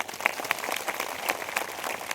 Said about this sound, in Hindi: इसके लिए ताली बजा दीजिए।